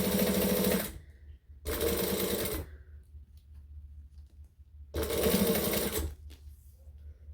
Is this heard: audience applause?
no